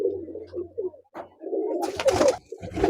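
Rome tumbler pigeons kept for sale coo close by in low, throaty, repeated phrases, broken midway and near the end by loud bursts of rustling that sound like wing flaps; no one speaks.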